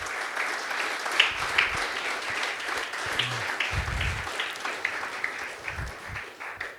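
An audience at a sports complex award function claps for coaches and management, a steady, moderately loud round of applause that tails off toward the end.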